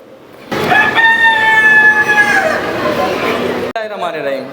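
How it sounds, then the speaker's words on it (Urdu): A rooster crows in the morning, one long loud close cock-a-doodle-doo lasting a few seconds, followed by fainter clucking and bird chatter. "مرغے نے اذان دے دی آفیشلی، اس کی بھی صبح ہو گئی ہے"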